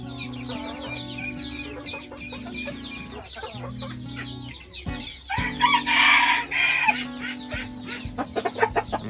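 Chickens cluck steadily around a rural home garden on an overcast morning, and a rooster lets out a loud, close crow partway through, followed by more clucking and scattered short calls.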